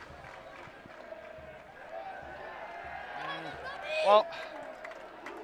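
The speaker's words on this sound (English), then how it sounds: "Oh, the crowd here, ladies and gentlemen, is fantastic." Spectators at a school rugby match at Bowden Field murmur and call out in the background beneath a commentator's voice, with a brief louder swell of shouting toward the end.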